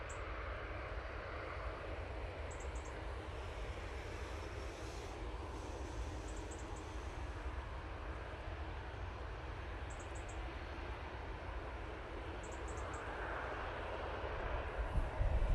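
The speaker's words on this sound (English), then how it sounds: "we do have this Jet2 73 taking full length now" A Jet2 Boeing 737 starting its full-length takeoff roll at Manchester Airport makes a faint, distant engine rumble that slowly builds toward the end, with a few soft chirps on top.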